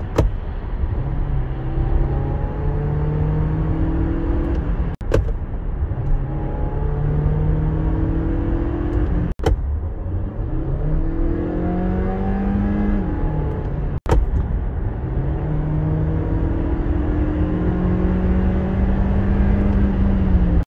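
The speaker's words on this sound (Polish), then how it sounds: "silnik dość głośno pracuje, bo jak już się uruchomi, to wchodzi na postoju na wysokie obroty" A hybrid car's petrol engine revs loudly and repeatedly while stationary, rising and falling in pitch, with a few sharp clicks between revs; steady, close, no voices.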